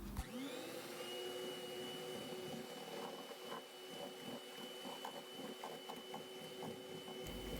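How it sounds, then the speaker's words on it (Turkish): A kitchen mixer runs steadily with a motor whine, beating yogurt cake batter after baking powder goes in, close and continuous for the whole stretch with no talking. "tüm malzemeyi homojen olana kadar karıştırmaya devam edelim"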